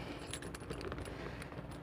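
Car keys for a Ford Expedition jangle softly, a quiet run of metallic clinks and rattles against a low background rumble, with no talk.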